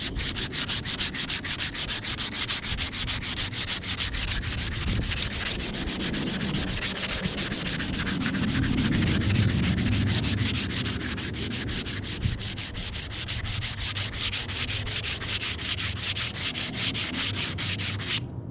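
Continuous rhythmic rasp of sandpaper rubbed back and forth on wood while shaping a woomera atlatl, close and steady, with rapid even strokes and no talking.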